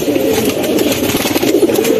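A large male racing pigeon coos close by, a loud, continuous throaty burbling with rolling pulses and no voices over it.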